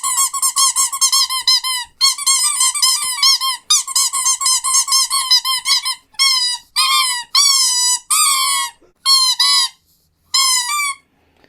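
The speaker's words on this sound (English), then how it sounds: "It has a real squeaker on the bottom. And now let's squeak them." Rubber Toy Story alien toys squeezed over and over, their squeakers giving loud, close, high-pitched squeals, first in rapid runs and then in separate squeezes with short gaps, with no other sound.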